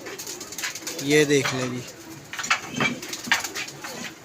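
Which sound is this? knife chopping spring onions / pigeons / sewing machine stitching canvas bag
pigeons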